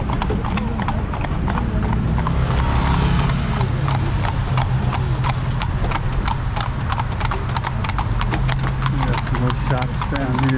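Horse hooves clip-clop in a steady, brisk rhythm as a horse-drawn carriage rolls through the streets of Marrakesh, Morocco, close and loud, with street bustle and voices around it throughout.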